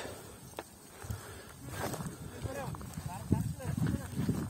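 Horse hooves clop at a walk across an open field near Tokmok, with soft, uneven thuds sitting beneath steady nearby talk and some outdoor background noise.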